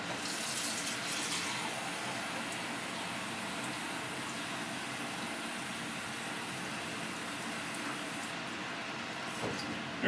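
Tap water gushes steadily into a cooking pan in a home kitchen, a continuous close splashing rush lasting about ten seconds with no talking over it.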